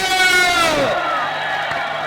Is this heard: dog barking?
no